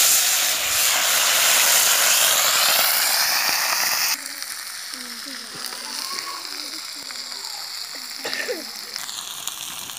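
Cauliflower florets, washed, dropped into hot oil tempered with cumin and a green chilli, setting off a loud sizzling hiss that settles into steady frying with faint stirring scrapes.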